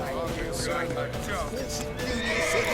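Horses neigh and whinny repeatedly amid hoof clatter in The Witcher 3: Wild Hunt, with shouting voices talking over the chaotic, continuous scene.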